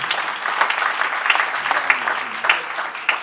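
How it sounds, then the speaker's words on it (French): Audience at a Christian youth conference claps loudly and continuously, dense rapid hand claps filling the room at close range, with no speech over them. "acclame très fort pour le roi des rois"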